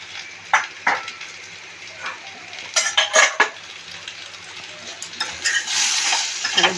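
Spices with turmeric and cumin powder sauté in a pan for a fish curry, with bursts of spatula scraping and clanking against the pan over a low sizzle; no talk.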